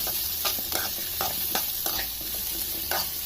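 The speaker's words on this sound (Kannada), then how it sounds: "ಈರುಳ್ಳಿನ ಇದನ್ನು ರೋಸ್ಟ್ ಆಗಿ ಹುರ್ಕೋಬೇಕಾಗತ್ತೆ. ಓಕೆ, 10 ನಿಮಿಷ ಕರೆಕ್ಟಾಗಿ ನಾನು ಹುರ್ತಿದ್ದೀನಿ ಇದನ್ನು." Radish and onion frying and being stirred in a pan, a steady sizzle under repeated scraping strokes of a spoon, close and clear with no talk.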